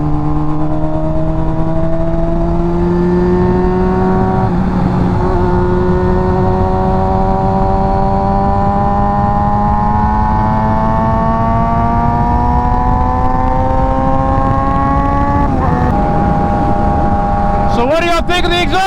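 Honda F4i sport motorcycle fitted with a Radiant Cycles Shorty GP exhaust, its engine droning steadily at high revs with a rising pitch through the run and a brief gear change near the end, loud and close.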